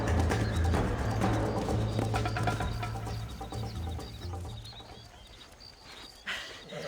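Hooves clip-clop in a quick, rhythmic gallop as a horse runs in the Red Dead Redemption video game, loud and near at first, then fading before a brief louder thump near the end.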